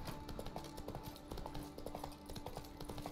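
Rapid clip-clop of a horse's hooves as it is ridden through Skellige in The Witcher 3, a steady quiet galloping rhythm with no talking.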